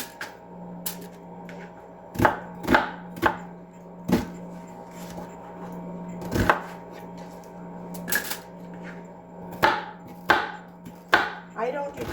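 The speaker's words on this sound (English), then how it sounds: "I just rough chop them." Knife roughly chopping vegetables on a board for a home-cooked dinner, a dozen or so distinct, fairly loud chops in uneven bursts with pauses between, over a low steady background hum.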